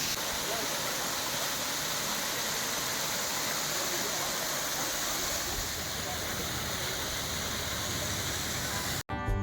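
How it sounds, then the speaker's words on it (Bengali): A roadside waterfall on the hill road to Lava near Kalimpong roars as a dense, steady rush of falling water, loud and unbroken throughout. "লাভা যাওয়ার পথেই রাস্তার পাশে কিন্তু পড়লো এরকম একটা ঝর্ণা"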